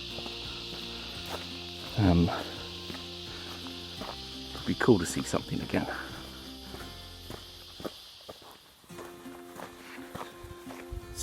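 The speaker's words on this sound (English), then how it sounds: "it's probably just my footsteps" Footsteps crunch along a bush trail in two short bursts of close steps, over a steady high insect buzz, and someone speaks briefly.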